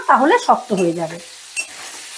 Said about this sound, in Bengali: এবার গ্যাসের আঁচটা মিডিয়ামে রেখে পনিরগুলো আমি হালকা লাল করে ভেজে নেব।